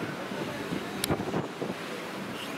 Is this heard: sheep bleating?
no